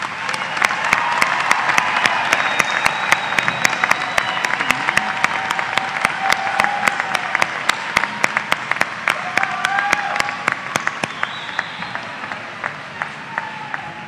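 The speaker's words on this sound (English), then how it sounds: "Please let's give our baccalaureate students another round of applause" A spring 2018 university commencement audience for School of Business and Nursing graduates claps steadily for baccalaureate graduates. Individual sharp claps stand out over a dense wash of applause, which lasts about fourteen seconds and thins slightly toward the end.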